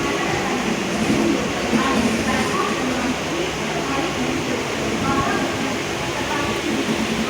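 Mumbai local train running between Mulund and Thane, a steady loud rumble and rattle of the carriage heard from inside, with a voice talking over the continuous noise.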